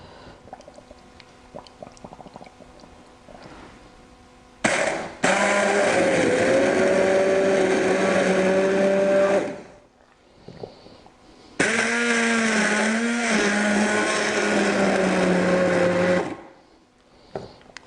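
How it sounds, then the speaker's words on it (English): A hand blender whirs loudly in two sustained bursts of several seconds each, blending hot cauliflower and almond soup, with a short pause between, its pitch shifting slightly as it works. "I'm now going to blend it. So I've just got a hand blender"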